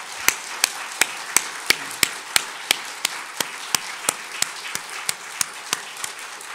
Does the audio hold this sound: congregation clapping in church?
yes